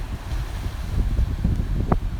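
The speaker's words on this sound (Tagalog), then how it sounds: "Yan yung dagat ngayon, medyo maalon." Low, rumbling surf and gusting wind buffet the microphone, a steady close roar of rough waves on a blustery shore at Camp Hill beach, Bermuda.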